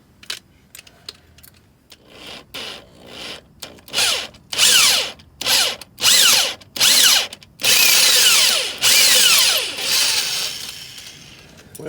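A power drill with a left-handed bit whirs in a series of short, loud bursts, then longer runs, its pitch rising and falling as it drills out a broken exhaust manifold bolt on a Chevy Silverado; no talking.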